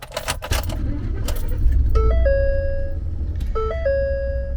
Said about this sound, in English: let's go ahead and start the truck up and see what it has to tell me